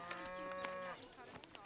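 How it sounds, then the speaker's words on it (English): A cow moos once in a long, drawn-out low call indoors in an office call centre, then fades into faint background chatter and clicks. "Oh, that is just a cow. Must have wandered in."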